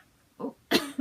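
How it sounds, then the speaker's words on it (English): A person gives a short burst of two or three quick, close coughs in a quiet room, each a sharp, breathy bark, with the middle one loudest. "I got this cough"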